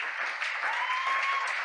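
An audience at a launch event applauds, steady dense clapping throughout, moderately loud and unbroken, with a faint voice underneath.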